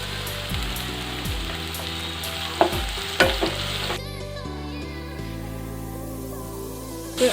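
Long-cut carrots and onion stir-fry in hot oil in a pan, giving a steady close sizzle. Scraping stirs cut through it, with a few sharp clanks near the middle.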